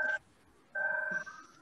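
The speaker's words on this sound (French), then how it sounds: "J'ai le téléphone qui sonne" A telephone rings during a remote-work call. Two electronic ringtone bursts are separated by a short pause, moderately faint and alone with no talk over them.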